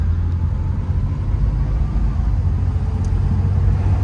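A 1979 Dodge Aspen car drives along with a loud, steady low engine drone and road rumble heard from inside the cabin. Nobody speaks.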